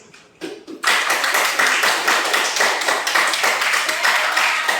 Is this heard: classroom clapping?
yes